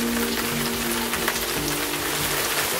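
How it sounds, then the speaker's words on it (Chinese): Heavy rainstorm with dense rain drumming steadily on nearby surfaces, a loud unbroken hiss with a low tonal hum running underneath. "而家超大雨"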